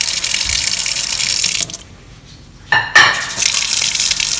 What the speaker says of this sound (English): I normally use the sink water